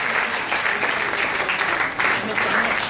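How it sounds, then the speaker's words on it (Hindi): Stage event audience giving sustained loud applause for a guest, dense even clapping throughout with voices mixed in underneath. "जोरदार म्यूजिक, तालियां।"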